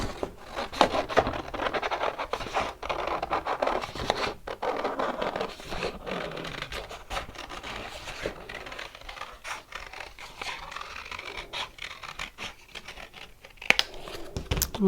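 Scissors cut out white cardstock close up, giving steady snipping, scraping and paper-rustling sounds throughout with no speech.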